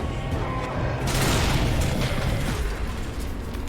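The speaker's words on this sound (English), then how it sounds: "explosions." Explosions go off in the video game Shadows of the Damned, a heavy booming blast with a dense, crackling rumble that fills the brief moment loudly and fades slightly toward the end.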